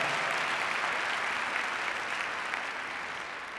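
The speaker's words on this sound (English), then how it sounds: "Let's give those schools a great round of applause." An audience applauds schools at a school district awards event, a steady dense wash of clapping hands from a large room, moderately loud and fading slightly toward the end, with no voices over it.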